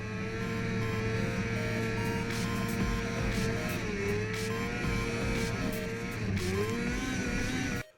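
An Arctic Cat F7 snowmobile engine carving through corners drones steadily and loudly throughout, its pitch wavering slightly with throttle before cutting off abruptly at the very end.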